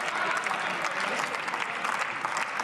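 Parliamentary applause during a debate session, a steady broad clatter of many hands held at even level throughout, moderately distant in a large chamber.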